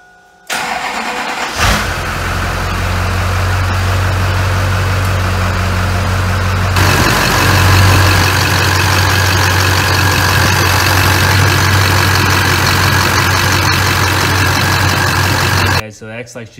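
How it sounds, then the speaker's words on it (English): An LB7 Duramax diesel pickup fitted with a 64mm WoldFab turbocharger cranks, fires and settles into a loud, steady idle with a deep rumble and turbo whir, running close by for about fifteen seconds. "Truck started right up"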